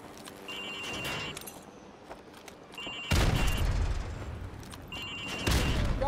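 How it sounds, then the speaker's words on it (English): Grenades thrown through windows in a demolitions training course in Call of Duty: Modern Warfare Remastered go off in two heavy booming blasts about two seconds apart, over faint ringing and background game ambience. "Now throw a grenade into windows 2, 3, and 4."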